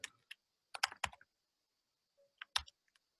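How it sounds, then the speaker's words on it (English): Several quick clusters of computer keyboard keystrokes as an email address is typed, close and fairly quiet, with pauses between bursts and no talking. "Which I'll type my email right here."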